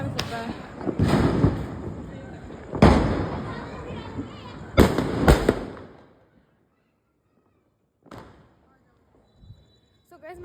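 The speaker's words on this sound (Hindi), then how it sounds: "गाइस पटाखे फूट रहा है।" Several loud Diwali firecracker bursts crackle and pop in quick clusters, then fade to quiet with a few faint distant pops afterward.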